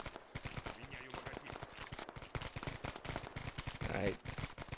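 Rapid bursts of automatic gunfire in the military shooter game Arma 3, a dense crackling stream of shots with rising intensity near the end, mixed with a voice talking over it.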